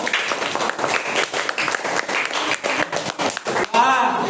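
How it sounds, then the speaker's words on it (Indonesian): A class of students claps for a classmate named Abdur in a school lesson, a brief burst of close, uneven hand clapping mixed with children's voices and chatter. "Tepuk tangan dulu untuk Abdur."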